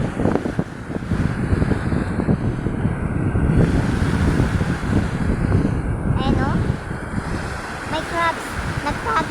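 Waves wash steadily onto a slippery seashore under heavy wind buffeting, a constant roaring surf close by with no clear break.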